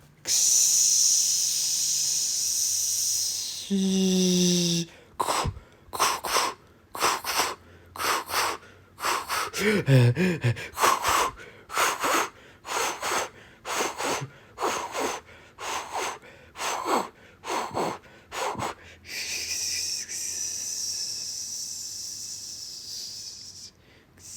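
A voice imitates a train rolling past a platform: a long hiss, then a rapid run of rhythmic chuffs and rattles, ending in another sustained hiss.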